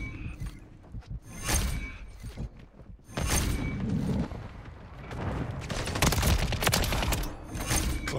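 Rapid gunfire rattles through a Call of Duty DMZ match, repeated close bursts of shots and clattering mechanisms over a continuous loud battle din.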